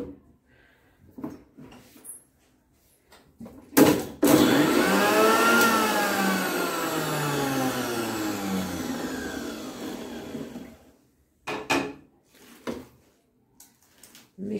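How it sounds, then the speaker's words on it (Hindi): A mixer grinder roars loudly for several seconds as it blends spinach into a paste, its motor pitch shifting as it churns, with clunks and handling knocks before and after. "और अब हम इसका बनाएंगे पेस्ट मिक्सी में।"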